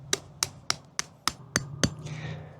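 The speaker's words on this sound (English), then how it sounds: "I'm going to hammer it into the ground for fun" A PVC pipe hammered into garden ground outdoors: six evenly spaced, sharp hammer strikes about a third of a second apart, close and loud, followed by a softer trailing rustle.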